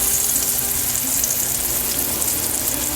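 Sea bass fillets frying in a hot pan, a steady bright sizzle that continues evenly throughout.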